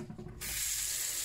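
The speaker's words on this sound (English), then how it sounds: "Put more water in, put it there, and go ahead and put the grass head so it will water itself." After a brief quiet, water begins pouring steadily into a grass head pot, giving a continuous close splashing hiss that carries to the end.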